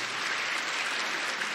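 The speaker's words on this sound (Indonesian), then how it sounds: "Yang percaya kasih tepuk tangan buat Tuhan." Applause from a church congregation clapping for God during a sermon, steady and dense throughout, fairly close and filling the room, with no talk over it.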